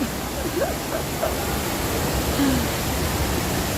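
Steady rushing water from an indoor waterfall in a shopping mall fills the space, with faint chatter and a few distant calls echoing in a large indoor hall.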